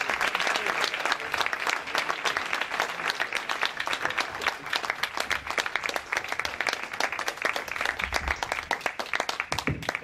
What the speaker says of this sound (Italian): il regista, a cui rivolgerei finalmente un grandissimo applauso, Paolo Brugato.